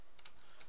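Keys clatter on a computer keyboard while Java import statements are written, several quick close taps in a brief burst, quiet and without talk.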